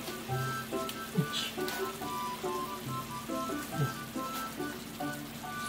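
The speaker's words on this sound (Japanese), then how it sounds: "5分を弱火で煮詰めます。" Chicken wings simmering uncovered in a frying pan on low heat with soy sauce and sugar, a soft, steady bubbling and light sizzle with scattered small pops, fairly quiet and close.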